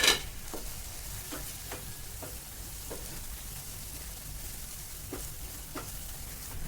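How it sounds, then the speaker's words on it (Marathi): Powdered spices roast in a pan with a constant, fairly quiet sizzle and crackle, while a spoon stirs and scrapes across it in repeated strokes. "आपले मसाले भाजत आहेत"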